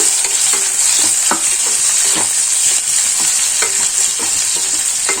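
Chopped onions frying in hot oil in a pan for foxtail millet fenugreek rice, a loud steady sizzle broken by repeated spatula scrapes and knocks, with no talking.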